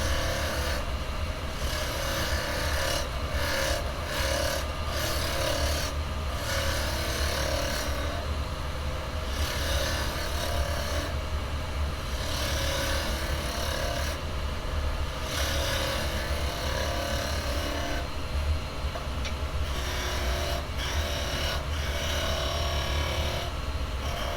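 A wooden bangle spins on a woodturning lathe while carbide chisels cut it, producing a continuous close mechanical drone with steady scraping and chattering and short dips as the tool lifts off, with no voices.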